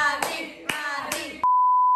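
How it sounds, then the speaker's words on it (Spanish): Three sharp, separate hand claps ring out close by, spaced evenly apart, followed by a sudden steady electronic beep tone. "Aplauso para ti"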